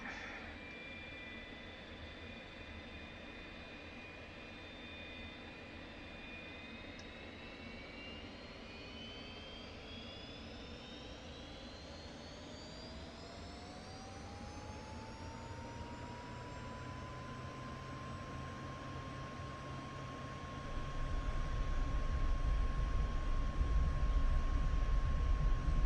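An F-86F Sabre jet engine spools up for takeoff, its steady turbine whine rising in pitch and intensity, then a deeper roar and runway rumble swell as the jet accelerates.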